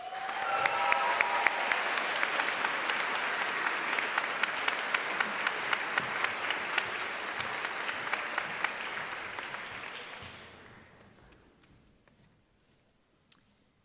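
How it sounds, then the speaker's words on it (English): A high school convocation crowd applauds graduating students with a long, dense round of clapping that gradually dies away into near quiet, followed by one sharp click. "Let's give all these fine students just one more round of applause"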